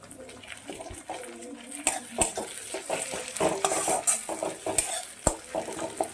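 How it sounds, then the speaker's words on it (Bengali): Onion and tomato frying in a pan for Bengali rohu fish kalia, with steady sizzling, spoon stirring and sharp clinks of utensil against the pan, close and moderately loud. "পেঁয়াজটা খুব ভালো মতো ভাজা হয়ে গেছে আমি দিয়ে দিচ্ছি টমেটো কুচো করে"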